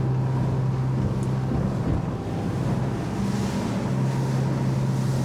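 Sargo 28 boat cruising on a waterway at moderate speed, a steady loud engine drone mixed with rushing water and wind buffeting on the microphone, with no talk.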